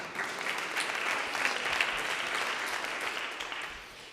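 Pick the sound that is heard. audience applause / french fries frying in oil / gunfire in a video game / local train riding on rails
audience applause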